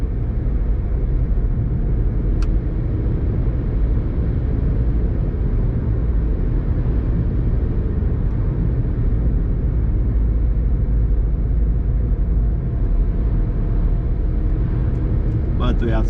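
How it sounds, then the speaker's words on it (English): Steady road and engine rumble from inside a car driving in traffic on a Bavarian road near Bad Tölz, loud and constant, with someone talking over it. "As you see, we have quite some traffic in front of us."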